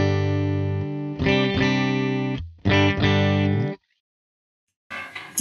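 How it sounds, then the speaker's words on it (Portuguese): Electric guitar played clean through a pedalboard with all effects off, a few strummed chords ringing out and cut short, then a brief gap and a scratchy noise near the end, no talk. "esse é o som da minha guitarra clean"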